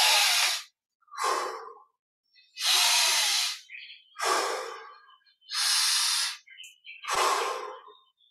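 Slow, deep breaths during a guided meditation: several long airy inhales and exhales in a steady rhythm, close and fairly loud, with quiet pauses between them and no talking.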